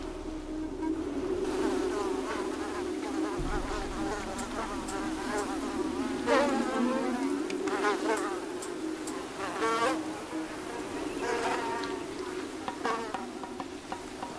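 Mosquitoes whine and buzz around land-dwelling fish in Vietnam, a steady insect drone with a few nearer high-pitched passes over soft background noise.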